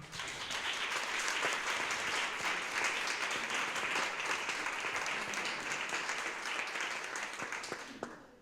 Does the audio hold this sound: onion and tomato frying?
no